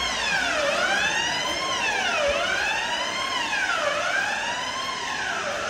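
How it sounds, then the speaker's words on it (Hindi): A college fire alarm wails continuously in steady rising and falling sweeps, loud and close, with no voices over it. "अबे उसका नहीं है फायर अलार्म है ये"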